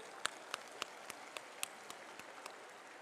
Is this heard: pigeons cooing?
no